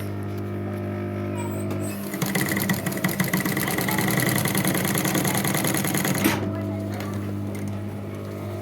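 A sewing machine stitches a small coin purse, a rapid mechanical whir and clatter running for about four seconds after a steady background hum, then stopping abruptly.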